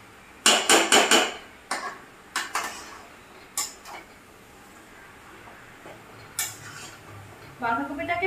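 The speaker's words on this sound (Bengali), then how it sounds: "বাঁধাকপিটাকে ভালো করে মেশাতে হবে।" Metal utensil stirring cabbage with fish head in a frying pan, giving sharp clattering scrapes and knocks in quick bursts, then sparser taps, with a faint sizzle near the end.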